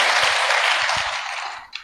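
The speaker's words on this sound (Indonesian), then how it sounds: "Tepuk tangan buat mereka." A short burst of audience applause at a church sermon, a dense wash of clapping that fades quickly, ending with one distinct clap.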